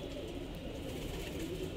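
Low, steady cooing of Punjabi pigeons in Indore fills the background, a continuous murmuring hum with no talking over it.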